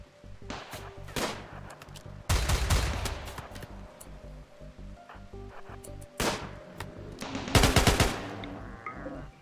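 Bursts of gunfire in the colony-building video game RimWorld, sharp shots in irregular volleys with pauses between, some dense clusters, fairly close with a low steady hum beneath.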